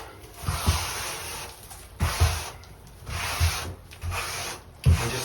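Excess tile grout is wiped off with repeated long, rhythmic rubbing strokes, close and fairly loud, each pass a broad swish separated by brief pauses, with no speech.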